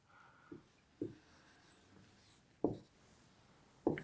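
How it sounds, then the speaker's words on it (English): Chalk or a marker taps and strokes on a board as a question is written out, making four short, distinct knocks spaced about a second apart over quiet room tone. "I'll write that question down in the answer."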